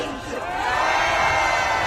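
A crowd at an outdoor rally cheers and shouts for a band, a loud, sustained roar of many voices swelling over two seconds, with few distinct claps.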